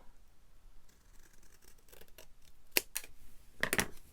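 Scissors snip through paper while a coordinating piece is trimmed down to make a page banner, with a few quiet cuts followed by several sharp, close snips and no talking.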